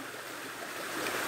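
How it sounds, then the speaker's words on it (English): A small outdoor stream flowing in cold weather, a steady close broadband rush of water that swells slightly louder toward the end, with no talking. "Nice little stream."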